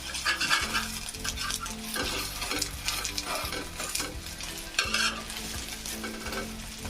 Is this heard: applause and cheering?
no